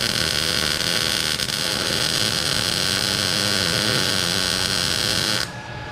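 MIG wire-feed welding on a Camaro drag car, a loud, continuous crackling buzz that holds steady for several seconds, then cuts off abruptly near the end.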